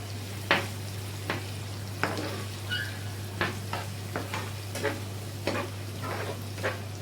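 Onion and garlic sautéing in a pan, a moderate sizzle with a steady hum beneath it and regular scraping strokes of a spoon stirring, about one every half second, with no voices.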